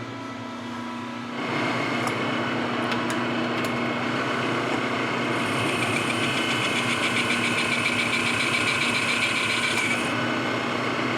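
A lathe turns a TD25G tilt cylinder at 431 RPM. A steady mechanical drone with a tonal hum starts after a brief quieter lead-in, and a thin high whine from the cut rises partway through.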